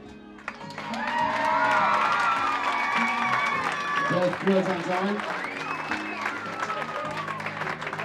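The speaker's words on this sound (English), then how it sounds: "please put your hands together and give a fantastic round of applause to Bev" A holiday park audience claps and cheers for Bev, who placed second in a competition; lively applause and whoops swell and hold, with voices calling out over the clapping.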